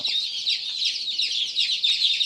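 Chicks and hens chirping and clucking together in a steady, dense chorus of high peeping calls, close and continuous with no talk.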